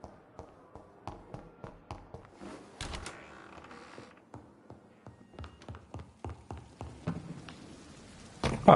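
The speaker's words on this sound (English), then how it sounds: "Oh, it's raining." Scattered raindrop ticks and taps patter irregularly at a low level in the video game Vampyr, with a brief louder splash near the end.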